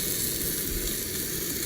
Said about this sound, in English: Frying up pretty good.